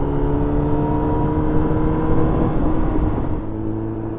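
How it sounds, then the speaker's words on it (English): Loud, steady engine and exhaust drone of a Yamaha R1 motorcycle at speed, holding a constant pitch before easing slightly near the end, with no voices. "I love the crackles that this thing does."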